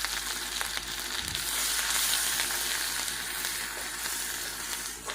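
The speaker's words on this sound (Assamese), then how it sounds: "ভজা তেলখিনিতে মই এতিয়া থেতেলিয়াই ৰখা মই নহৰু আৰু আদাটো মই দি দিম।" Crushed garlic and ginger sizzle steadily in hot oil for an egg curry, a loud, continuous close-up frying hiss with faint stirring.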